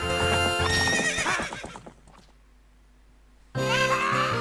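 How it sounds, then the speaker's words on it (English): Epona the horse in Zelda: Ocarina of Time whinnies loudly with a rising and falling neigh, which fades into near silence before a second loud neigh bursts in, with game music behind it. "What's up with that horse? Is that Epona?"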